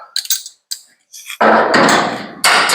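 A steel belly pan is clamped to the inner sill of a 1959 VW splitscreen campervan, with light metallic taps followed by a loud, sustained clattering scrape of steel against steel up close.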